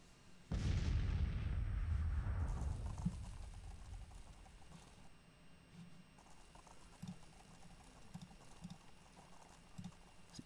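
Napoleon cannon artillery fire in a Civil War video game, one heavy close boom followed by a long rumbling decay, then scattered soft thuds and pattering in the distance.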